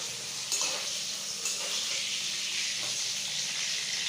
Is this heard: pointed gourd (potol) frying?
yes